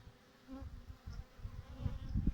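Honeybees buzz around a hive, a soft droning hum with individual bees passing close now and then.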